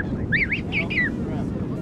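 King penguin adults calling among a large colony on South Georgia or the Falklands, a few loud warbling, rising-and-falling trumpeted notes close by, over steady wind and colony murmur.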